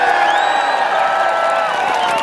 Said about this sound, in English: Thank you very much for giving a round of applause for them.